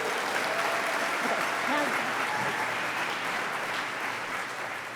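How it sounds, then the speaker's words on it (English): An audience at an environmental awards evening applauds, a dense, steady round of clapping from many hands that stays loud and close before easing slightly at the end, with a voice faintly audible beneath. "So please, let's give them all another round of applause and thank them for their hard work."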